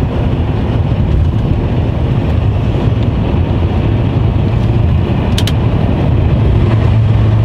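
A car drives steadily on a street with a continuous low engine and road rumble and some wind noise, as it moves toward a parking spot in a residential area near a school and vet.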